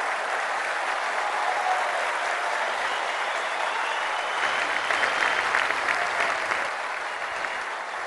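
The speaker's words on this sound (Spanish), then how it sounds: "Un aplauso para ustedes mismos." A crowd applauds refinery workers at a Labor Day event at the Dos Bocas Olmeca refinery in Paraíso, a dense, steady ovation that holds at an even level for about eight seconds.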